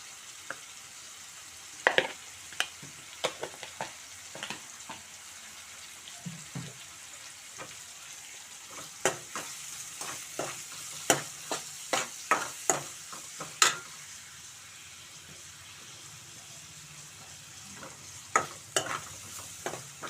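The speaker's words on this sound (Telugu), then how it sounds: "కొంచెం బాగా వేయించుకుందామండి చూడండి ఉల్లిపాయలు అయితే చక్కగా" Onions frying in a pan for a village-style brinjal and tomato curry with dal and turmeric, with a spoon stirring and scraping in repeated clicks over a steady low sizzle, no talking.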